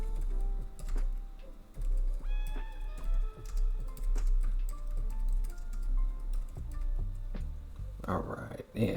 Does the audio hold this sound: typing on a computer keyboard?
yes